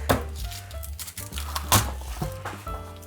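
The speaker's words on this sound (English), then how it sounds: "Onion, we're just halving it and taking off the skin." A knife halves an onion on a cutting board, giving a few close, soft chopping thunks spread over a few seconds against a steady background hum.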